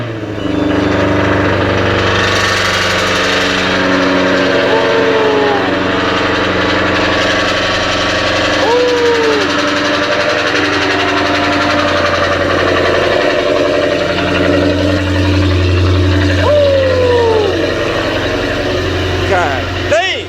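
A Jaguar F-type R's engine cold start, running at a steady loud rumble throughout with a sustained low drone, under faint talk from people nearby.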